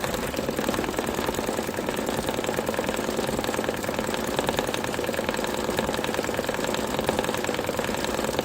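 A Brother embroidery sewing machine stitches an iron-on patch, its motor whirring in a steady, continuous, fast mechanical rhythm at close range with no pauses.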